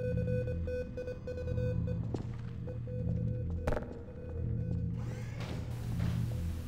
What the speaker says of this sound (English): And you hear Morse code.